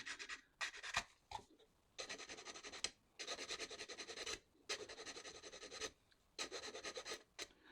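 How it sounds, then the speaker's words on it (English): Nail files rasping across a small 3D printed model, heard close up as repeated bursts of quick back-and-forth scratching strokes separated by brief pauses. "They are nail files, so not super coarse, but let's just see."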